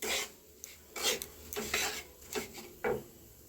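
Curry leaves, peanuts and raisins stirred in a pan, several close gritty scraping and rattling strokes in an uneven rhythm, fairly loud, no talking.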